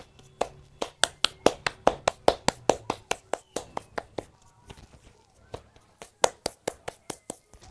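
Palms pat a ball of nixtamal masa into a small memelita, making a rapid run of sharp, close slaps with a steady rhythm. There is a brief pause before a second run of pats.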